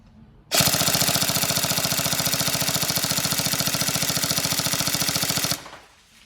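An upgraded Tokyo Marui MP5A5 NGRS airsoft electric gun fires one continuous full-auto burst of about five seconds, a loud, rapid, even mechanical rattle that starts and stops abruptly.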